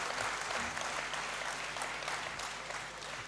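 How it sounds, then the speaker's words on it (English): Steady, dense applause from an audience in a great hall during a university congregation ceremony, sustained and even throughout and easing slightly toward the end. "He deserves another round of applause"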